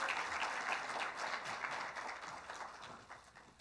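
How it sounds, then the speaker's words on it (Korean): Audience applause at a Korean software industry award ceremony after a photo session, a moderate, continuous patter of clapping heard from within the hall, with no speech over it. "박수 부탁드립니다."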